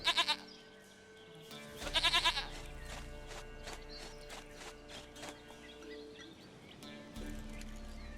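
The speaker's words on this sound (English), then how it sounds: "Goat of mine, dearest, sweetest goat." A goat in The Witcher 3 bleats loudly in several wavering calls over a busy background of game music and ambience.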